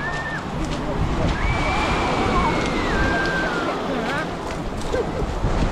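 Black Sea surf washing onto a crowded beach at Lazarevskoye, a steady broadband wash of waves with people talking nearby and a faint whistle-like tone drifting over it.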